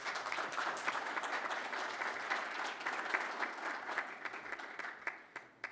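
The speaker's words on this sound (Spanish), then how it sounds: "Un aplauso, por favor." An audience at a technical mining conference applauds steadily, a dense, moderately distant clapping that holds for several seconds before thinning out.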